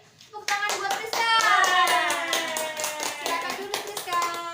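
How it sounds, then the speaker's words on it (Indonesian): Classroom children applaud together, a burst of many small hands clapping that builds quickly and holds, with childish voices ringing over the applause. "Kita kasih tepuk tangan buat Priska."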